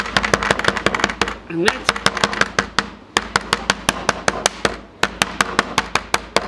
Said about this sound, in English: Soft side of the chocker hammer.